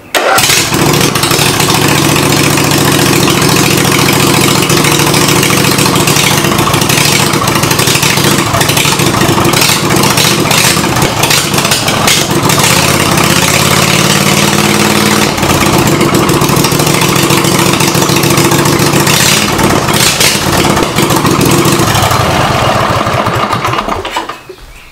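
A 20 hp race mower engine roars loudly without a muffler, a harsh, raspy, continuous blare that holds steady for the whole stretch before cutting off at the end.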